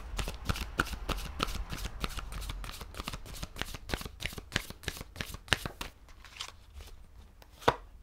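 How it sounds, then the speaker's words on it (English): Rapid riffling of a tarot deck being shuffled, a dense run of crisp flicks that thins out toward the end with a final sharp snap. "I'll do an extra shuffle this time."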